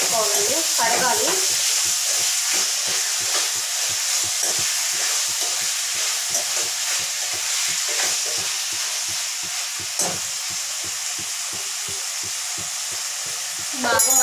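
Prawns fry in hot oil in a pan with a strong, continuous sizzle and hiss, and faint stirring scrapes recur throughout. The sound is close and steady, with no talk over it.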